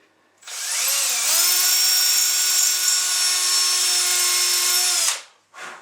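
Power drill bores into a wall to hang a shelf, a single sustained high whine starting after half a second, running steadily for about five seconds, then stopping abruptly with a short burst after.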